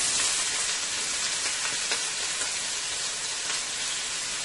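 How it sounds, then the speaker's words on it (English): Spinach and onion hiss and sizzle in a hot pan, a dense, steady frying crackle with no talking over it. "into my pan here, I am going to go ahead and start with my spinach, which I'm going to be adding one whole onions"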